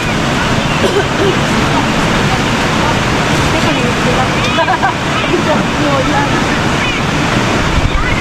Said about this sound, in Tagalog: Alon na.